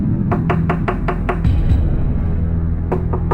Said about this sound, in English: I think you might need to go and give the door a little knock